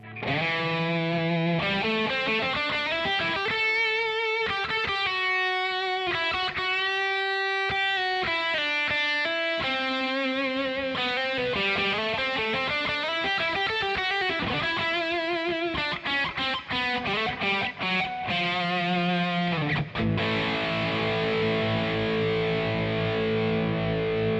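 Distorted electric guitar through a Marshall JMP-1 preamp plays a sustained, melodic passage with layered chords and effects, loud and continuous, ending on a sharper crunchy strum.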